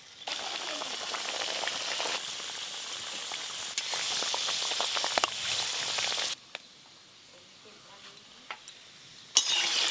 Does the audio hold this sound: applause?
no